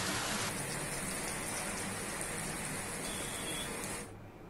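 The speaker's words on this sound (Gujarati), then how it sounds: "અમદાવાદમાં મોડી સાંજે વરસાદી માહોલ જામ્યો, અનેક વિસ્તારમાં ગાજવીજ સાથે વરસાદનું આગમન થયું" Steady heavy rain pours down in Ahmedabad on a late evening, a dense continuous hiss close by that runs unbroken for about four seconds before cutting off abruptly.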